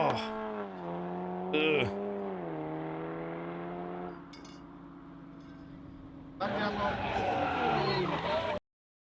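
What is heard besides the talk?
Skoda car launch control revving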